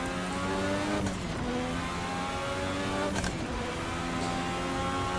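A Formula RSS 1986 V6 turbo race car in Assetto Corsa roars at high revs, its steady loud engine note dipping briefly with gear shifts around a second and three seconds in, with no talk.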